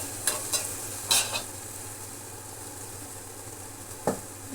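Garlic being stirred and fried in a pan for a Telugu home recipe, with a few soft scraping stirs over a faint steady sizzle, fairly quiet and close, no talking.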